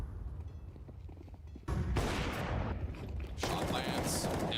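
M4 rifle fire in Counter-Strike during a major tournament match, with quiet background ambience, then sudden loud bursts of close rapid gunfire with clattering impacts and a brief lull between volleys.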